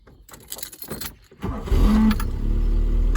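A 1986 Peugeot 205 barn find, long unused, turns over after some rustling and clicks, catching and settling into a steady low rumble that continues to the end.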